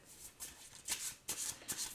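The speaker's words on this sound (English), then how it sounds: "So much shuffling." Tarot cards being shuffled up close, with soft riffling swishes and flicks that come in several short bursts and brief pauses, quiet and without talking.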